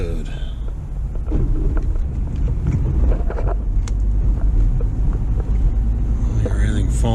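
A car towing a newly built boat trailer on the road, giving a steady rumble of engine and road noise with wind buffeting throughout and a person talking over it.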